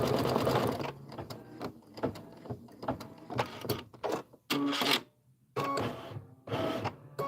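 Kimberbell embroidery machine stitching out a quilt block design: close, busy mechanical chatter with rapid needle strikes and whirring carriage moves, broken by short pauses and abrupt restarts.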